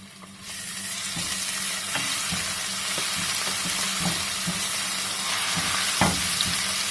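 Ginger garlic paste frying in a pan, a steady, close hiss of sizzling oil with occasional soft clicks and scrapes of stirring, running continuously for several seconds.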